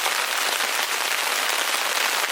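Heavy rain drumming on a tent while car camping, a dense, even patter close overhead that holds steady without pause and with no talking.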